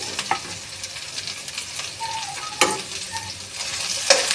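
Onion and garlic sauté in a small amount of oil while a utensil stirs them, making a soft, steady sizzle with occasional scrapes and clinks, close by and without speech.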